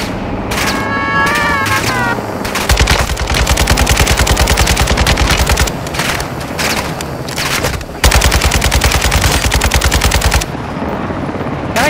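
Light machine gun fire in Call of Duty: Modern Warfare II, loud rapid bursts and sustained automatic volleys filling the scene, with brief pauses between strings of shots and no talking.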